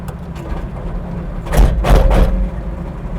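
Trench-It trencher chain attachment crushing granite rocks: a low heavy engine rumble broken by two loud grinding, crunching bursts midway, then easing back.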